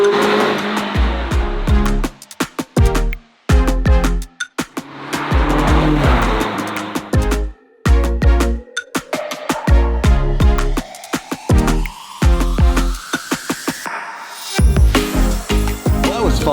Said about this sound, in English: Little jaunt in the 360 Stradale just to get things warmed up.